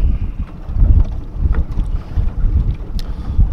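A motorboat runs on open water during a fishing trip, its low engine rumble steady and close under gusty wind buffeting the microphone.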